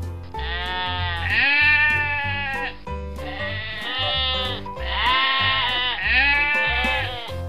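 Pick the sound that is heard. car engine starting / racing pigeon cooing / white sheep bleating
white sheep bleating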